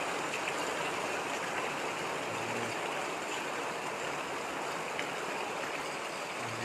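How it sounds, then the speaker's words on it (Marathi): Floodwater rushes steadily through a flooded neighbourhood street in Alibag during heavy monsoon rain, a continuous close, loud broadband wash of flowing water with no voices. "बघा किती पाणी साचले."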